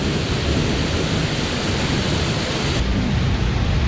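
Waterfall at Disney's Typhoon Lagoon water park pours in a steady, loud, broadband rushing wash that fills the whole clip without pause.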